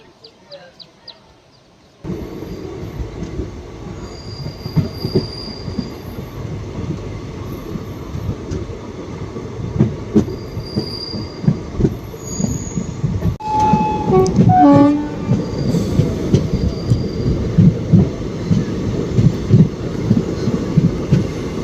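A passenger train between Tirunelveli and Kanniyakumari rolls along steadily with a continuous low rumble and rhythmic clatter, loud and close, after a brief quieter start.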